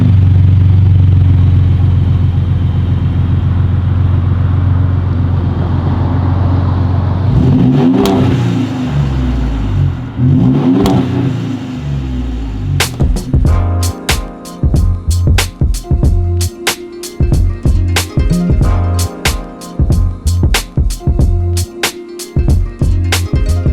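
A Ford Raptor's 3.5-liter twin-turbocharged V6 idles with a low rumble, then revs sharply twice before settling into a choppy, pulsing burble of repeated blips, loud and close.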